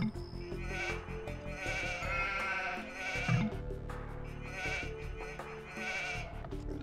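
In Age of Empires 2 HD on Land Nomad, sheep give several quavering bleats at moderate volume, recurring over a continuous layer of game music without any talking.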